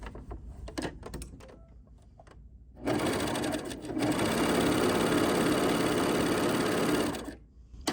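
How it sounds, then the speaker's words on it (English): A bernette 68 sewing machine stitches in a steady, fast mechanical whir for about four seconds. Quieter handling clicks and fabric shuffling come before it, and it winds down at the end. "let's do another stitch where we don't lock it so that you can see what's happening"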